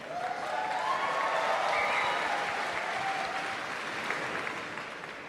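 A large convention crowd at Star Wars Celebration applauds and cheers, a dense, sustained roar of clapping with whoops that peaks and slowly fades.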